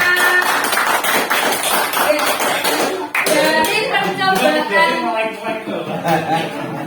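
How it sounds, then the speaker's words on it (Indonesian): A group of adults at a teacher training workshop claps together in a burst of dense applause, which then gives way to people talking. "Beri tepuk tangan buat kita semua."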